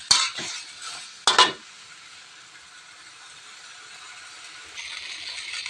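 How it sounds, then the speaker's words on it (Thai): Shanghai noodles with sliced pork and sausage are stir-fried with basil in a hot pan, opening with a couple of sharp metal spatula clanks, then a steady sizzling hiss that swells again near the end. "อันนี้ผัดกะเพราเส้น เชียงไฮ้นะคะ ใส่หมูสไลด์ใส่ไส้กรอกนะคะ"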